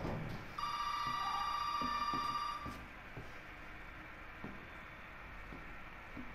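A telephone ringing inside a house in the video game Resident Evil 7: a bright electronic tone rings steadily for about two seconds, then gives way to quieter ambient noise and faint thumps.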